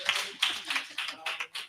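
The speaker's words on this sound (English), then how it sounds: "Give our Honorable Darcel Clark, our district attorney, a hand clap tonight." Scattered hand clapping from a civic affairs summit audience greeting district attorney Darcel Clark, coming in uneven bursts of a few claps that swell and fade, fairly quiet and without talk.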